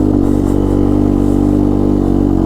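A Yamaha Tri-Moto 200 three-wheeler engine labors and bogs down in spring snow, a loud, close, strained low drone that holds steady without climbing in revs.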